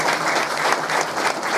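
Dense, steady audience applause at an Islamic religious lecture, filling the whole moment with no speech over it.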